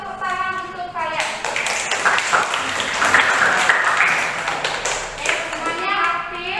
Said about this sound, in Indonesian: kita berikan dulu tepuk tangan untuk kalian